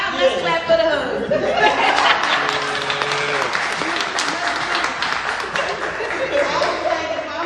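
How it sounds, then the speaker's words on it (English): Podcast audience clapping for a husband, brisk applause mixed with laughter and chuckles, with voices talking over the clapping throughout. "y'all let's clap for the husband"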